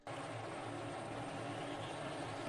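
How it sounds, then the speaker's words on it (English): F-16 jet fuel starter spooling up in the Falcon BMS flight simulator, a steady broadband whine and roar that rises sharply at the start and then holds loud and even, with no voices. "on the jet fuel starter, we're going to set it to start 2 with 1 right click"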